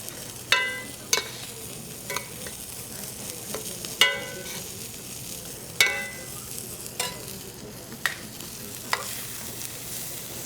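Hanger steak searing in unsalted butter in a pan, with a steady close sizzle and crackle broken by several sharp spatters and pops, no voices.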